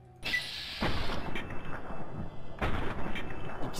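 Gunfire in the video game Fallout New Vegas, two heavy booming shots with echoing tails, each followed by a longer rumbling decay.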